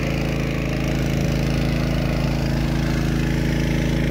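A motor runs loudly and steadily beside a garden irrigation main-line valve, a constant droning hum with a dense low rumble that holds without pause throughout.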